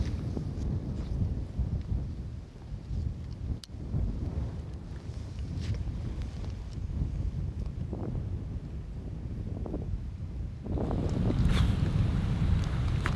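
Strong wind roars steadily through the woods during a Michigan archery whitetail hunt, a loud continuous rushing that swells with heavier gusts near the end.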